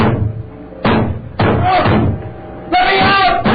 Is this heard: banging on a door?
yes